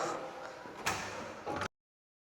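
A door to the service area of a foreclosed two-bedroom house in Lipa City, Batangas slides and bangs shut with a sharp knock midway and a second thud before sudden silence.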